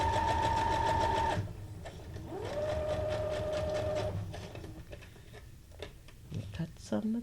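Sewing machine stitching paper junk journal tags, its steady mechanical whir running in bursts that stop and restart, close and fairly loud, with a person talking at moments between the runs.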